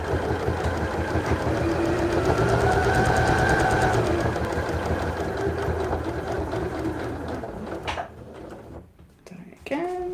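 A sewing machine stitches a fabric side pouch with a fast, steady mechanical whirr and needle rattle, then slows and stops, followed by a few brief clicks and handling noises.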